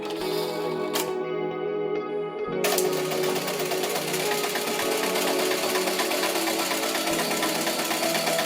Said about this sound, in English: I'll bring it over to the programmable, set my width of my tack that I want, and then start tacking away.